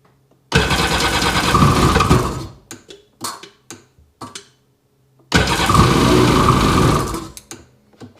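A Sea-Doo 4-TEC engine cranks after the start button is pushed, a loud rapid whirring turnover for about two seconds, then scattered clicks and short bursts, then another long cranking attempt, with no talk.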